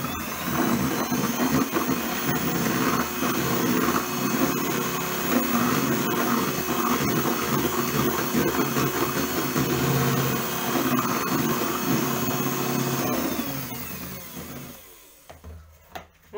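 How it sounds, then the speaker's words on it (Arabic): An electric mixer whirs steadily as it beats milk for cupcake batter, a loud continuous motor drone with rattling in the bowl lasting about thirteen seconds before switching off. "عندنا كاس ونص ديال الحليب، حتى هاد الحليب غنطربو"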